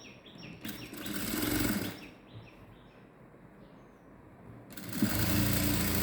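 A sewing machine stitches a blouse with a princess cut and balloon sleeves, running in two loud bursts at the start and the end with a quieter gap between.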